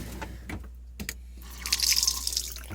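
Water runs from the freshwater pump tap aboard a 1974 Carver Santa Cruz 2866 boat, a few soft knocks and then a close, steady stream that splashes into the basin.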